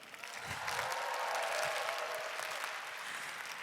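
An audience at a lecture event claps together in a faint, steady round of applause that swells slightly and holds evenly to the end.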